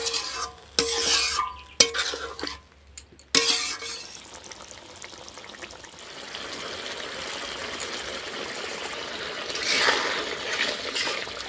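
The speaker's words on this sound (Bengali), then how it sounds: "ডিমটা কষানো হয়ে গেছে, এবার আমি জল দিয়ে দেবো।" Water poured into a pan of sizzling country duck egg curry, with a few clattering knocks and scrapes, then a steady, hissing bubble that swells and holds, close by.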